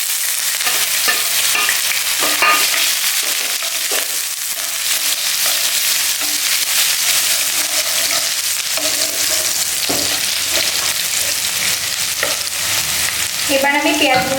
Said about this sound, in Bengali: তো এবার আমি দিয়ে দেব পেঁয়াজ কুচি